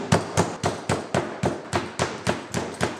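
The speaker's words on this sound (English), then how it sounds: "Now we're going to take our meat tenderizer and we're going to flatten these" A meat tenderizer pounds chicken breasts flat to a quarter-inch thickness, about twelve sharp, evenly spaced thuds repeating steadily and loudly at close range with no talk.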